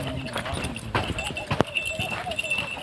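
A mare's hooves clip-clop in a steady walking rhythm at moderate distance, heard beneath ongoing voices.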